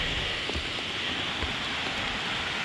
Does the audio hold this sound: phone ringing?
no